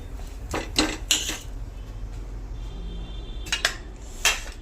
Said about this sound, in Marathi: थोडासा पलटी करून घेते डोसा तयार आहे